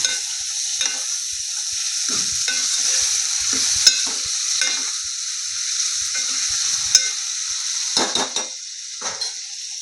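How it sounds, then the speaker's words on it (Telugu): Tomatoes fry in oil in a pan, giving a steady hiss with intermittent scrapes and clinks of a spoon as they are stirred, close and fairly loud, with no talking. "టమాటాలు కూడా ఒక ఐదు నిమిషాలు మంచిగా ఆయిల్లో ఫ్రై అయిన తర్వాత అప్పుడు ఉప్పు కారం వేసుకోవాలి"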